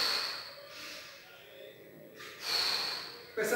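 Heavy breathing during an abdominal exercise: two sharp, close exhalations through the nose and mouth, separated by a quieter pause, with faint voice sounds around them.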